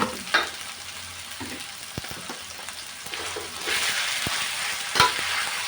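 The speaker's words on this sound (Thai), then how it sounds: "เราผัดพริกขี้หอมก่อนนะคะ" Chilies sizzle steadily in a hot pan while a utensil scrapes and taps against the metal every so often, close up with no voices.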